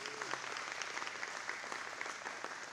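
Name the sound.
audience applause at a men's breakfast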